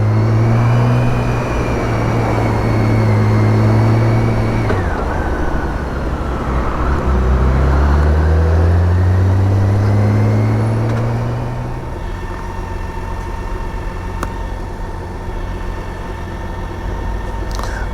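A BMW K1600 GTL motorcycle cruises on a highway with the rider's visor up, its engine droning loudly and steadily with gear shifts and pitch changes, wrapped in heavy wind rush and road noise.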